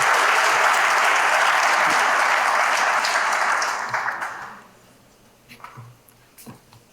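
Audience applause welcoming a graduate speaker at a grad night event, a steady loud wash of clapping for about four seconds that fades out, leaving a few scattered claps and quiet room noise.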